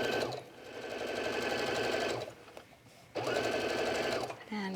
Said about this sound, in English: And then we'll just sew around the body of the fish.